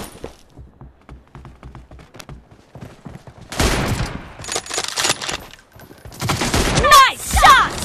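Multiplayer video game gunfire: soft scattered shots at first, then dense loud bursts of rapid automatic fire with sharp cracks, voices talking in between.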